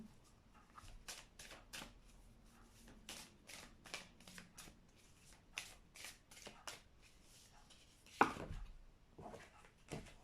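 A deck of tarot cards is shuffled close by in quick bursts of crisp riffles and flutters, with short pauses between them and a sharper snap near the end.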